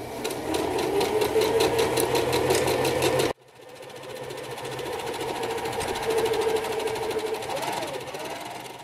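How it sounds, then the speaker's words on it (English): A home sewing machine running a long basting stitch on fabric for a dog coat, a steady close mechanical whir with rapid rhythmic needle clatter that briefly stops, then resumes at a smoother pace. "I'm just going to baste it where my foot ends"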